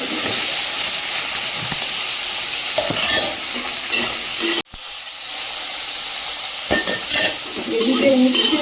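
Potatoes and crab fry in a hot pan while being stirred, a loud steady sizzle and hiss broken by scraping stir strokes and a brief dropout midway, with no talking.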